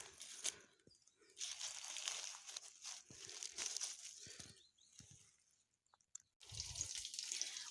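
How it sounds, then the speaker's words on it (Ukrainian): Crackling sizzle of saffron milk cap mushrooms frying in a hot pan, steady and close, with brief pauses and a few soft clatters. "Ось так смажимо рижики."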